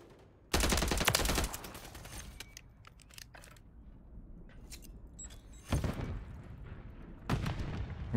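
Bursts of automatic gunfire from a Call of Duty: Modern Warfare III match, one long loud volley followed by scattered shots and two more short bursts close by.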